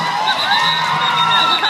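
Crowd at a roller derby bout cheering and screaming loudly and continuously, a dense roar of voices with high shrieks and whoops sustained throughout.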